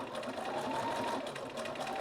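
A sewing machine back stitching, its rapid mechanical stitching hum continuing evenly throughout at a low, close level.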